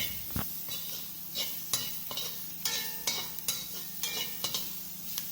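Curry powder, turmeric and seasoning frying in oil for Jamaican curry goat: a low, quiet sizzle runs underneath as a utensil taps and scrapes the pan in scattered clicks.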